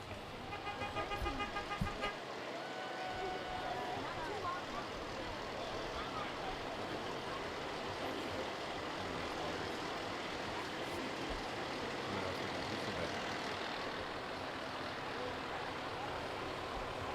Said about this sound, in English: Okay, more cool trucks. Shiny, cool trucks. Big, shiny trucks.